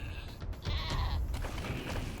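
A monster goat bleats in the video game Wasteland 3, giving a single wavering bleat of about two seconds, loud and close over game ambience.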